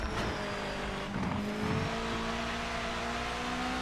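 Race car engine in the video game Project Motor Racing, a steady sustained drone with rising and falling revs as the car is pushed hard, loud and continuous throughout with no talk.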